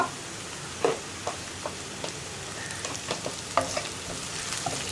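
Ground spices such as pepper powder and garam masala frying in a pan for masala bread, with a soft steady sizzle broken by scattered scrapes and knocks of a spoon stirring, close and unaccompanied by speech.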